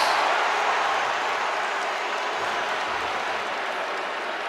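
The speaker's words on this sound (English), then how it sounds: "The boo birds from this crowd" A stadium crowd boos in a sustained, dense roar at a Colorado Buffaloes versus West Virginia Mountaineers college football game, a steady wall of voices that fades slightly toward the end.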